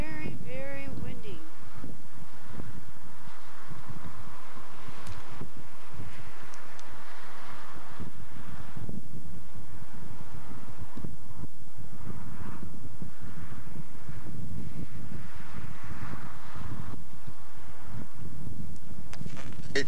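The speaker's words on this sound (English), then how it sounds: "But today it's very, very windy." Strong, gusty wind buffets the microphone beside icy water, a constant loud roar and rumble that rises and falls in pulses throughout.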